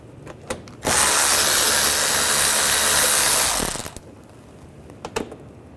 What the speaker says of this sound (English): On the inner fender well, we're going to take these lower screws out,